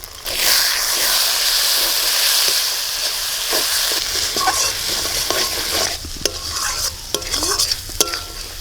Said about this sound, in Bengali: আমার সব মশলা ভালো করে ভাজা হয়ে গেছে এবার গুঁড়ো মশলাগুলো দিয়ে দেবো